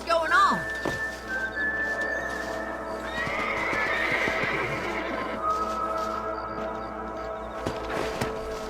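Horses in Red Dead Redemption neigh with a loud whinny at the start, then hooves clip-clop along at a steady pace with a second whinny midway and some indistinct talk in the background.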